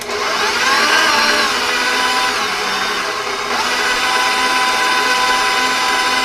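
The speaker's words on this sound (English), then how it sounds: "So I'll put the egg whites in my mixer. So I'll turn my mixer on low." Stand mixer running on low speed, whipping egg whites for chocolate mousse, a steady loud motor whir with beater hum lasting throughout.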